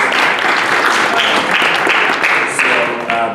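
Audience applause welcoming a speaker at a tech event, loud continuous clapping from a crowd close by, with faint voices mixed in as it begins to taper.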